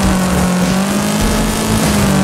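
A race car engine in the video game Wreckfest drones loudly and steadily at high revs, a buzzing motor tone holding close and constant with no talking.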